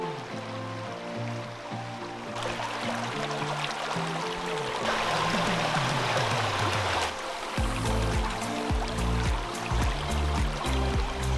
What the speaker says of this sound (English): The water here flows from the slopes of Mount St Leonard and joins the Goulburn River